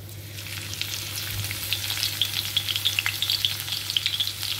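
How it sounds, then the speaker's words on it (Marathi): Crushed garlic and cumin seeds fry in hot oil in a pan with a steady close sizzle, and sharp crackles and pops rise over it partway through. There is no talk. "जिरं तडतडलं की आपण ठेचलेला लसूण टाकायचा आहे।"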